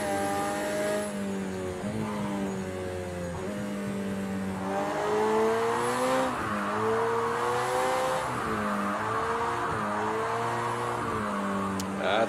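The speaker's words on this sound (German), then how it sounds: "Ihr seht hier im dritten Gang immer noch die Reifen, die durchdrehen" A McLaren 720S in the Project Cars 2 racing game revs hard in third gear with its tires spinning. The engine note rises and falls in loud, steady sweeps with no pauses.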